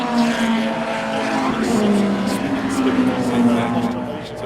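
Classic race cars, including a Ford Telstar, roar past on track at the SKOPE Classic, a loud sustained engine drone with shifting pitch as they go by, under steady commentator talk.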